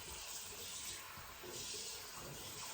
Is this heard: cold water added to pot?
yes